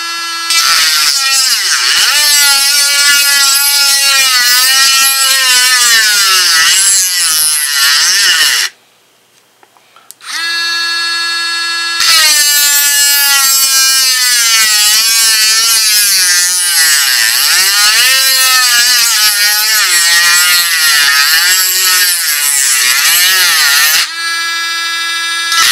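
A Bauer rotary tool sold by Harbor Freight grinds out rivets, its high, steady motor whine rising and dipping in pitch as pressure changes, cutting out briefly for about two seconds mid-way before spinning back up, loud and close.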